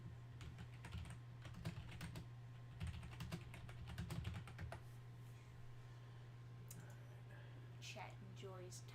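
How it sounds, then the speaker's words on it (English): Rapid clicking on a computer keyboard, close to the mic in uneven bursts of keystrokes, with faint talking in the background and a low steady hum underneath. "Chat enjoys typing ASMR."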